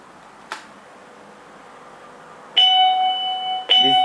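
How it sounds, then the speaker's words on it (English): A digital automatic school period bell sounds after a brief click: quiet background, then a loud steady electronic tone rings for about a second, cuts off, and starts again. "We are giving demo for period bell."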